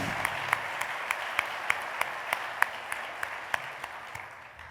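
Audience applause at a family and private business awards ceremony, a crowd clapping steadily in a hall, with one nearby person's sharp, regularly spaced claps standing out above the rest.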